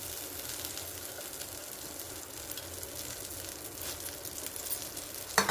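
Curry leaves sizzling in hot oil in a frying pan, a steady close hiss and crackle that holds evenly throughout, with a few sharper spits and pops near the end.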